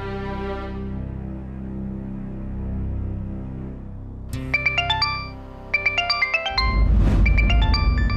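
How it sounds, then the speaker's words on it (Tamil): A mobile phone ringtone for an incoming call plays a bright, repeating electronic melody, starting after a sustained musical pad, with a low thump near the end; no speech. "சூர்யா ஃபோன் பண்றாரு."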